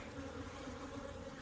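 Honeybees buzzing around an opened beehive during a hive inspection, a steady close drone of many wings humming together with no voices.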